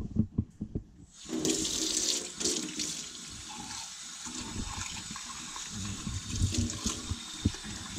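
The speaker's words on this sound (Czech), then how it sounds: "A tadyhle opláchnu ten hrnek od tebe." Running tap water splashes as a mug is rinsed in a kitchen sink, a few handling knocks first, then a steady close gush of water with small clinks underneath.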